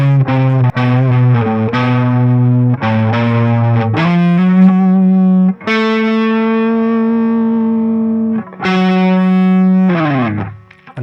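A distorted electric guitar plays a sustained lead lick with bends and slides, drenched in chorus and echo, ending in a falling slide.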